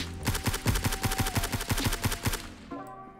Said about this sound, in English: we're gonna be range shooting it, and we're gonna see if it has a huge recoil or less recoil